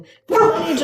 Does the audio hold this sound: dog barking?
yes